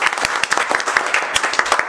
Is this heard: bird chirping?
no